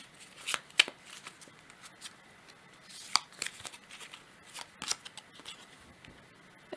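Tarot cards are shuffled and drawn in quiet, close, crisp bursts of riffling and flicking with brief pauses between them, alone and without speech.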